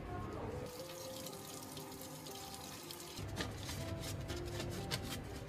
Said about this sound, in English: be sure to wash your hands thoroughly